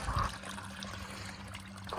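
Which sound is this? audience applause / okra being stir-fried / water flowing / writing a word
water flowing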